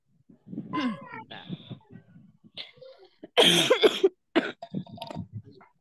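Speech interrupted by a loud, harsh cough burst from a sick woman near the middle, followed by more talking.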